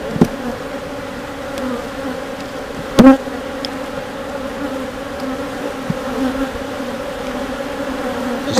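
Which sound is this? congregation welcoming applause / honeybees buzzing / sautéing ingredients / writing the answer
honeybees buzzing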